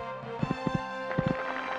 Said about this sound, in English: These two are really galloping now.